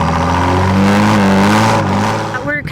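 A car engine revving hard during a roadside vehicle noise test, a loud sustained mid-pitched rev that climbs and holds before dropping off near the end, with people talking nearby.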